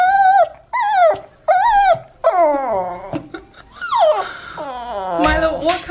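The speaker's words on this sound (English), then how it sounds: "what kind of bark is that? That's so weird." A house dog at a window, reacting to another dog outside, lets out odd, drawn-out howling barks, three sharp ones first, then longer wavering cries and a growly edge, loud and very close.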